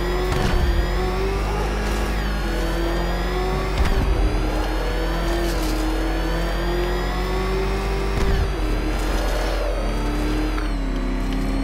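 A car in the video game Batman Arkham Knight drives through a pipe and climbs a wall, its engine droning in a steady, revving hum with a few louder surges, continuous throughout with no talking.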